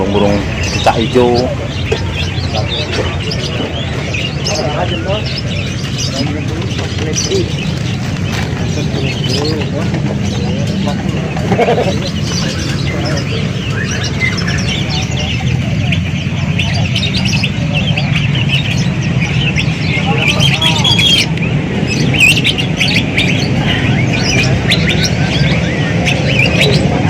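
Caged birds at the Sukahaji bird market in Bandung, green leafbirds among them, squawk and chirp in a dense, continuous chorus under steady market bustle, with people talking nearby throughout.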